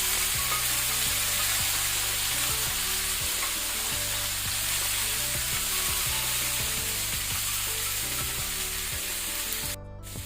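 Cut spiny gourd (kantola) fries with cumin in a hot pan, giving a loud, steady sizzle that carries on throughout over a faint musical backing.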